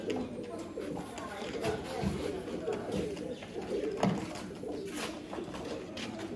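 Sialkoti pigeons coo in soft, repeated throaty calls, close by, under a voice talking throughout.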